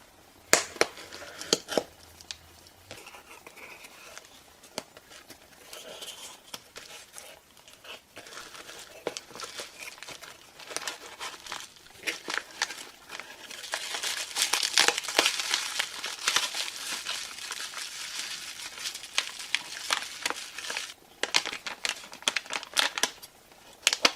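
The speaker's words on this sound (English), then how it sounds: "We'll open this box next." A mail package box is opened: close crinkling and crushing of packaging paper and cardboard, with scattered snaps and tearing, growing busier and louder midway through, no speech.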